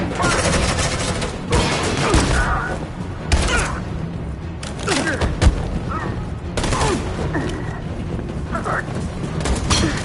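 Heavy suppressing fire in Detroit: Become Human, with sustained bursts of gunfire and booms across the whole stretch. Shouting voices sound in between.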